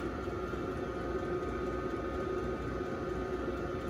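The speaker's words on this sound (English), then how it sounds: "excuse the noise, that's my van heater" A low, steady whirring hum with faint fan noise from a van heater in a workshop runs continuously at moderate distance.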